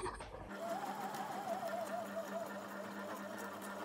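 A sewing machine running a straight stitch slowly around a circle on junk journal ephemera: a steady, quiet mechanical hum with fast rhythmic needle ticking that continues throughout, with a brief click at the start.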